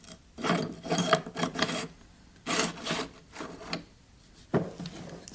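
The bolt of a Kel-Tec SUB 2000 Gen 2 rifle is pushed into the gun, several short scraping, rasping metal slides in bursts with pauses between, close and fairly quiet.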